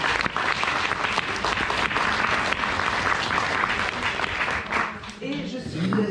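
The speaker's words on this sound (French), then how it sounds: "On peut même les applaudir peut-être." Audience applause at a master's degree graduation ceremony at Université Paris 7, loud and steady throughout the hall, with voices rising over it near the end as the clapping thins.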